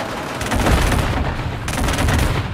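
Deployed automated turret in the Killzone Shadow Fall multiplayer warzone firing continuous rapid bursts on the La Cime map, loud and dense gunfire across the whole stretch with a brief lull partway through.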